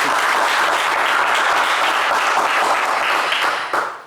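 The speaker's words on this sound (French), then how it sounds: "on va vous encourager avec beaucoup d'applaudissements" A studio audience on a television game show applauding loudly and continuously as one thick wash of clapping, cutting off abruptly just before the end.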